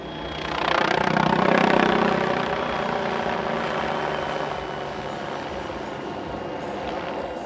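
Over an airshow in Leszno, a helicopter with glass-fibre-reinforced composite rotor blades flies by, its rotor and engine noise swelling to a loud, throbbing peak before easing into a steady, more distant drone.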